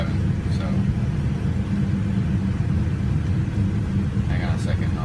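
A car drives along, its steady engine rumble and road noise filling the cabin without a break while someone talks over it.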